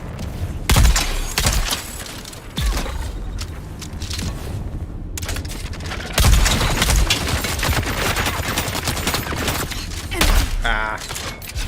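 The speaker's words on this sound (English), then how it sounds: "I need you to stop shooting me in the face." Dune Awakening gunfire crackles in rapid, repeated bursts of automatic fire with heavy thumps and booms, loud and close, sustained across the whole stretch with short pauses between volleys.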